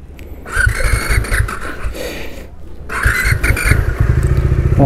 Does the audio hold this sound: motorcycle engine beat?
yes